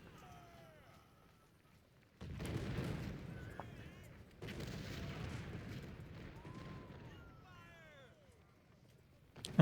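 Booming cannon and artillery fire from a Civil War battle in Ultimate General, two heavy bursts of rumbling gunfire at moderate loudness with shrill chirping and whistling sounds scattered around them.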